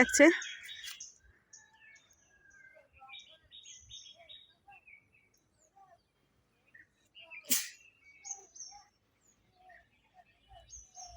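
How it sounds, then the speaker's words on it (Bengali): Birdsong in a Bangladeshi village, with an Asian koel among the callers: scattered chirps and whistled calls, a few louder bursts standing out against quiet surroundings, with no talking. "আপনারা কোকিল পাখির ডাক শুনছেন ওই যে কোকিল পাখি"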